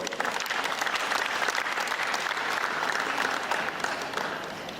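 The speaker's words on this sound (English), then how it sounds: "please give a round of applause to Patrick Doyle" A studio audience applauds a comedian's introduction, with sustained, even clapping from many hands throughout, fairly loud and continuous with a slight fade at the end.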